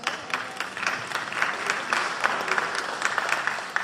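A lecture audience breaks into sustained applause, a thick wash of many hands clapping at moderate volume with scattered sharper claps and no speech.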